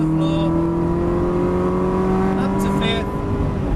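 A Ferrari at full throttle on a race track's long straight, its engine note a steady loud drone with rising harmonics, running continuously and close under an instructor's talk.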